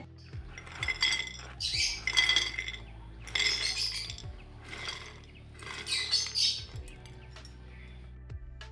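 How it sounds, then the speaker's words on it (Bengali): Crisp, brittle crunching of fried chickpea fritters comes in several bursts with short pauses between, close up and fairly loud, with faint clinks. "বন্ধুরা শুনলে তো কি পরিমাণে কুরকুরে হয়েছে"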